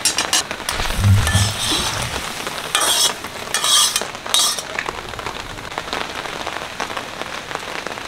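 Panch phoron spices tempering in hot oil for a Bengali yam-stalk and prawn dish, with a loud crackling sizzle and bursts of stirring that fade into a steady, softer frying hiss.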